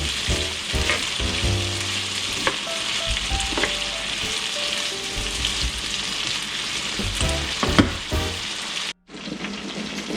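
Food fries in hot bacon grease for a home Christmas breakfast, a constant loud sizzle and crackle with scattered spatula clinks and pops, close up, briefly cut near the end.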